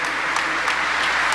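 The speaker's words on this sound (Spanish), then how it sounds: "Le damos un aplauso" Church congregation at a Mass for migrants applauds the choir with steady, close clapping that holds an even rhythm throughout.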